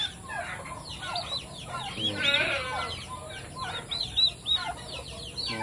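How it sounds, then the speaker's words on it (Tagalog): Newly hatched turkey chicks on a backyard farm peep in quick, high chirping bursts, with clucking from adult fowl nearby and a brief spoken word. "May bago tayong sisiw ng pabo."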